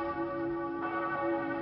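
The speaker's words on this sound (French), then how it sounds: "Cette cloche qui résonne, c'est la cloche du souvenir." A church bell in Strasbourg rings with a sustained, resonant tone, its hum lingering and swelling slightly midway, heard alone at moderate distance.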